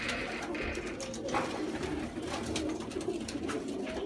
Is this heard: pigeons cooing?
yes